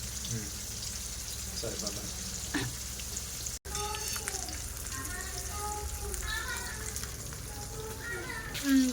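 Fish frying in a pan over a medium flame, a steady crackling sizzle running throughout, with occasional stirring and people talking over it.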